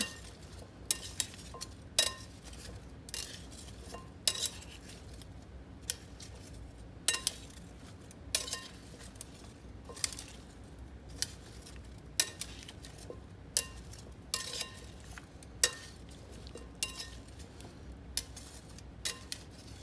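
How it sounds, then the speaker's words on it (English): Metal tongs flip oil-coated parsnips in a pan, producing quiet, scattered clinks and taps against the metal at irregular intervals over a low, hushed background. "You're gonna grab your tongs and just start flipping them, and make sure you get each individual parsnip coated with some oil"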